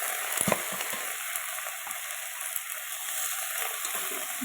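Spinach is added to onions frying in a little oil, giving a steady, close sizzle with a few soft stirring knocks early on.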